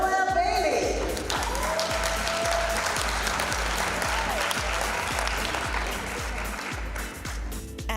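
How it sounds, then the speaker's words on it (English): Applause from an audience honoring an awardee fills the whole stretch, a loud, steady wash of clapping with crowd noise, a low rhythmic thump running underneath and some voices mixed in. "Let's hear it for Noel Bailey"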